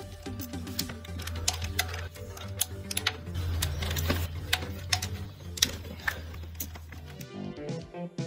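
Ratchet clicking while loosening bolts on the aluminum valve cover of a BMW E36 M43B16 engine, a steady run of quick, close mechanical ticks alongside a low hum, with no talk.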